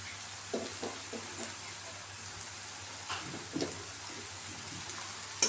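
Vegetables with spring onion greens stir-fry in a pan for homemade fried rice, a soft sizzle broken by scattered clinks and scrapes of the spatula, fairly quiet and close.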